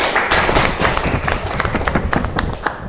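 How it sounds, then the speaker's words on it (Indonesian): Applause for the first discussion group at a classroom or school gathering: a dense, steady patter of many hands clapping close by for about three seconds, with a few brief voices mixed in. "Kita akan berikan aplaus untuk kelompok pertama"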